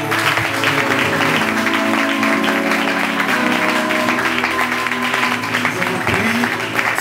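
A church congregation at a worship service applauds and cheers the Lord, a steady loud wash of clapping and crowd noise with tonal music sustained beneath it throughout.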